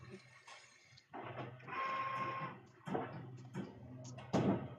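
A direct-to-garment T-shirt printer runs close by in a print shop, with mechanical whirring passes, a faint whine, clicks and shuffling thuds that start and stop in uneven bursts.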